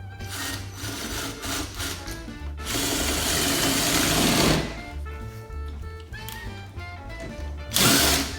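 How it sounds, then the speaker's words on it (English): Power drill driving screws into a doorknob lock during a DIY replacement, a close, whirring motor in several bursts of varying length, some longer and strained, with brief pauses between them. "I just like to use a drill, it's faster."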